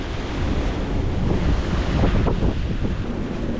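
Strong wind of about 28 knots gusting at sea off the Bahamas near a catamaran, a loud, steady roar buffeting the microphone, with crashing surf beneath and no talking.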